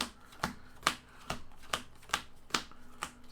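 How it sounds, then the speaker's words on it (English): A deck of Magic cards being pile shuffled, producing a series of about seven crisp, evenly spaced card slaps close by, each a sharp snap with a short decay, no talking. "I got to do some pile shuffling."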